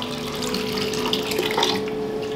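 Boiling water, 1.5 litres, pours steadily into a soup pot of vegetables, a continuous close splashing rush with no talk.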